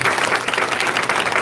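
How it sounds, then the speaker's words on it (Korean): An audience at a church testimony gathering claps in dense, steady applause that fills the whole short stretch at a strong, even level, with no voices heard. "이 박수 한번 부탁드리겠습니다."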